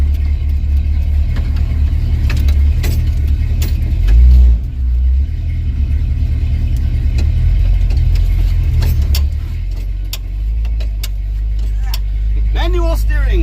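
A 1970 Dodge D100 pickup with a freshly swapped transmission backs up in reverse, a loud steady engine rumble heard from inside the cab, with a person talking over it.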